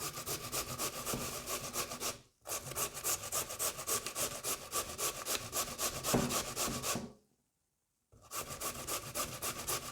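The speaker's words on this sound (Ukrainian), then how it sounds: "зараз натираємо картоплю" Steady rhythmic rasping of raw potatoes being grated for potato pancakes, fast repeated strokes close up, pausing twice before resuming.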